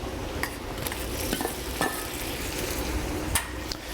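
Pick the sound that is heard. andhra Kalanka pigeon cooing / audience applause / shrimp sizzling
shrimp sizzling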